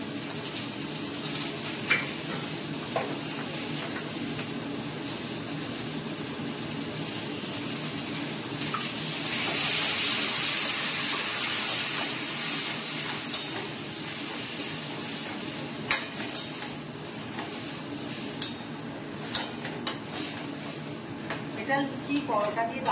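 Chickpeas drop into a hot pan with turmeric, chilli powder and salt, setting off a burst of loud steamy sizzling midway that settles into a quieter hiss, with someone talking throughout and a few scattered clinks near the end.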